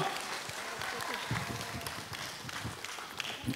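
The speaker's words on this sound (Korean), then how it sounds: "여러분 축하의 큰 박수를 부탁드립니다" An audience in a large concert hall applauds at a singing competition awards ceremony. The clapping is quiet and diffuse, with scattered claps over a soft room murmur.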